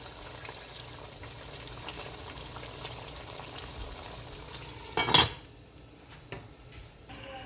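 Pork frying in a pot of oil, a steady fizzing sizzle that runs for several seconds before a sharp clatter and then fades to quieter bubbling.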